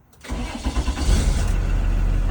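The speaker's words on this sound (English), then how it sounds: "Once our gauges cycle, we're going to start our bus." A school bus engine cranks and catches after a brief silent pause, then settles into a loud, steady idle close by, with no talking.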